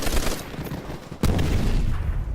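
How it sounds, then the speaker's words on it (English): Mortar blasts from the Call of Duty World at War video game boom as a dense volley of heavy thuds. A sharp burst lands partway through, and a rumbling barrage follows it. "I'm literally tossing mortars."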